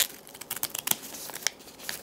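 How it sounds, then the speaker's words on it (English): Small scissors snip and crinkle through a thin plastic newspaper bag up close, a series of short, light cuts and rustles at an uneven pace. "I'm just using these little scissors because I don't know where my other ones are"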